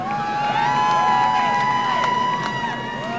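A race crowd cheers Paul Menard's win at the Milwaukee track in Wisconsin, a broad sustained roar under a loud tonal whine that rises and falls throughout.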